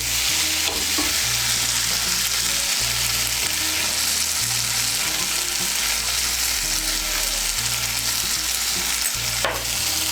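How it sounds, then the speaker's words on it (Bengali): Ridge gourd with spices and salt stir-fries in a pan, a loud, constant sizzle broken by the scrape and rustle of repeated stirring, with no voices. "মিশিয়ে নিয়ে ঝিঙেটাকে আর একটু নাড়াচাড়া করে নেব মশলার সঙ্গে"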